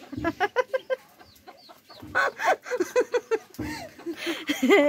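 Native country rooster and chickens clucking in a farmyard, a run of short repeated clucks and calls, fairly close, in bursts with brief pauses, with no talk over them.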